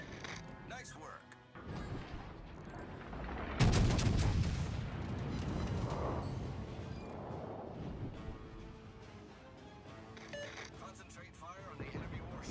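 Naval gunfire from warships in World of Warships Legends, with a North Carolina battleship in ranked play: heavy booming salvos and crashing impacts over game music and sound effects, with a loud blast near the start.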